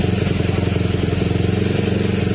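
A Honda Click 125/150 scooter engine runs steadily while warming up, a close, loud, even putter with a rapid regular pulse, no talking.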